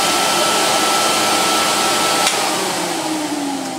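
An Electrolux XII vacuum cleaner runs with suction leaking from everywhere, giving a loud, steady close-up whooshing drone that holds level throughout and fades slightly at the end.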